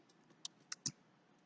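Keys on a computer keyboard tapping during HTML coding, three sharp isolated clicks close and fairly quiet over a faint background hum.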